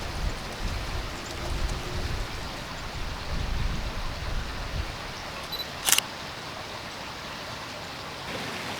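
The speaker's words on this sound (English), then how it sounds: "Oh my God, it's raining." Rain starting to fall outdoors, a dense steady hiss of drops with a low rumble underneath, plus a sharp camera shutter click partway through.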